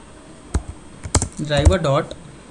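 A few sharp keystrokes on a computer keyboard while code is typed, scattered close clicks followed by a short burst, with a person's voice briefly audible.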